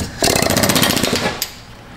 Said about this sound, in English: Make sure you're using the brass part of your air hammer, so we don't make any sparks.